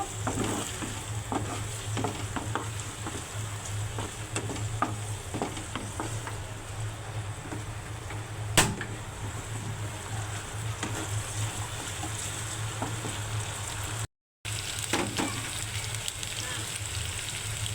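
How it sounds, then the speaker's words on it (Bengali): Garlic paste frying lightly with fish and eggplant in a pan for a Bengali chorchori, a soft continuous sizzle with faint stirring clatter, one sharp clink midway and a brief cut near the end. "একটু রসুন বাটা দিয়ে দিচ্ছি তারপরে একটু ভালোভাবে এগুলোকে হালকা একটু ভেজে নেব"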